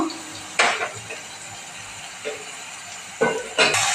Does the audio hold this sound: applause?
no